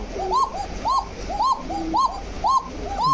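Male and female pigeons coo close by in a steady repeating pattern, each rolling call rising and falling roughly every half second over a low background hum.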